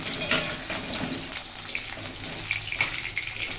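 Potatoes fry in oil in a home kitchen pan, giving a steady crackling sizzle with a few sharp clinks and scrapes of a utensil, fairly close and with no voices.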